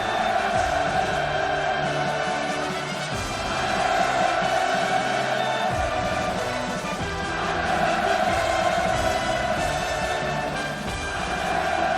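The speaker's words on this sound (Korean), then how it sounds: "격정의 환호를 터쳐 올리었습니다" A large crowd at an inauguration ceremony roars in sustained, passionate cheering, swelling in waves for the whole stretch, loud and dense with no pause.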